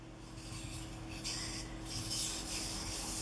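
Pig sticker knife blade being honed on a 2000 grit sharpening stone, a soft, steady rhythmic rubbing and scraping close by, quiet and without speech.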